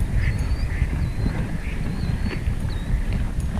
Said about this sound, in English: Just letting all the ducks clear out.